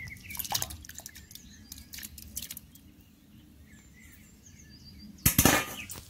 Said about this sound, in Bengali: এবার সেদ্ধ করা সোয়াবিনগুলো ঠান্ডা জলের মধ্যে ঢেলে দেবো